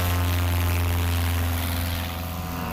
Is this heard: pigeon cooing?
no